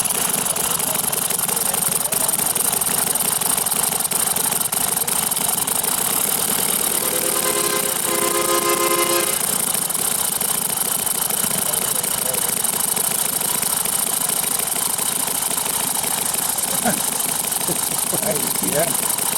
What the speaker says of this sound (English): That has a neat idle. Just like a Harley. It does idle down.